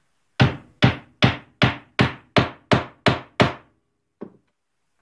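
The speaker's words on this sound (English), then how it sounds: "And just hammer it till it's seated." A hammer strikes a Lee Loader hand tool to seat a bullet into a .38 Special case, nine evenly spaced solid knocks followed by two lighter taps, close and alone without talk.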